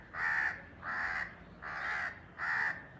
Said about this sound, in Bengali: কাকটা রয়েছে এখানে